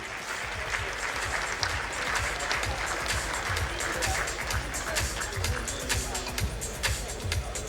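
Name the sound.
tables clapping loudly, applause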